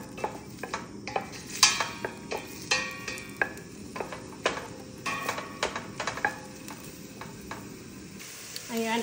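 Onion frying in oil in a pot while being stirred, a steady soft sizzle broken by repeated scraping and clinking of the utensil against the pot, fairly close.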